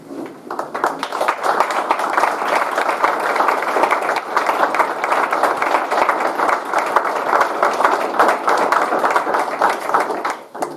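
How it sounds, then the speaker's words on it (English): Scholarship donors at a university reception receive a sustained round of applause from the audience, steady and fairly loud, with dense clapping running for about ten seconds before it tapers off. "I'll have you stand up so we can give you a round of applause"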